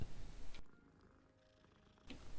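A cat purrs as it is petted in the Hogwarts Legacy video game, a soft continuous rumble between brief louder game sounds at the start and end, with no talk.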